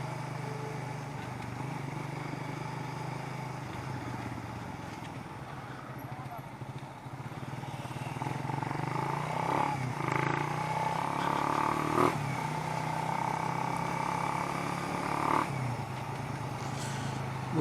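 A motorcycle engine hums steadily as the bike rides toward an intersection, with the drone slowly building. A rider talks over it throughout.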